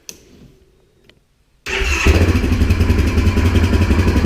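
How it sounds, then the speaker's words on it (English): A quiet pause, then a Can-Am Outlander XMR 1000R ATV engine with stock exhaust cranks and fires up loudly, settling into a steady, throbbing idle close by. "keys in it. We'll give it a start."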